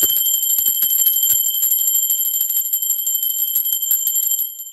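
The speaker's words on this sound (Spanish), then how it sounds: "Va campana, ser divino, va campana." A small bell rung repeatedly, its bright sustained tones ringing steadily and close with rapid strikes that fade out at the end.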